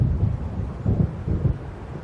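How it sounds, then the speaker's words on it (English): Low, rumbling thunder rolls through a stormy night in the video game Alan Wake, with wind and rain beneath it, swelling in several heavy pulses at moderate distance. "It seems there's a storm coming"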